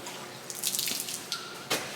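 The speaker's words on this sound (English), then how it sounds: "We turned this 90 degrees so it don't splash on the trailer frame and spray" Water from a trailer-mounted outlet splashes near the trailer frame in a few faint, quick splattering bursts over a quiet background, with no speech.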